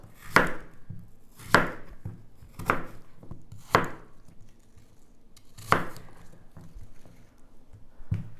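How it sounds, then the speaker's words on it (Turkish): Medium green apples chopped with a knife on a cutting board, five loud sharp chops at irregular intervals with softer cutting taps between, close and clear without talk. "Şimdi bunları ben güzelce doğruyorum."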